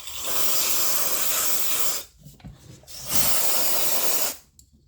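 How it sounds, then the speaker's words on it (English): Aerosol cleaner sprayed into a chainsaw crankcase during crank seal replacement: two long, loud hissing bursts, each about two seconds, separated by a short pause of quieter handling noise. "Spray it out."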